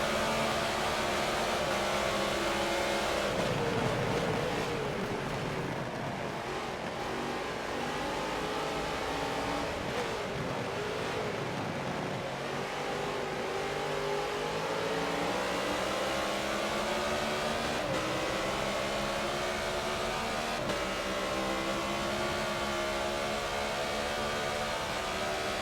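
BMW Z4 GTE race cars lap Silverstone in a racing video game, engines droning and revving continuously with rising and falling pitch as several cars run close together, loud and steady throughout.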